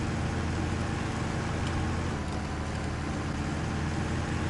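A truck engine drives steadily in SnowRunner on a paved road, a constant low rumbling drone at moderate, even volume with no talk.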